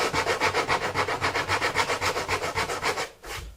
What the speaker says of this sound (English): So I like to take a sanding block here